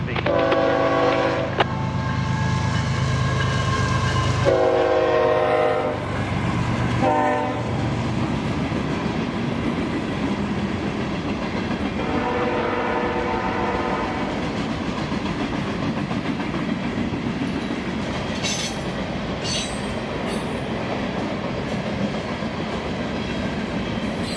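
A CSX freight train rolls past, its horn sounding in several long blasts over a steady rumble and clatter of rail cars that continues throughout at close range.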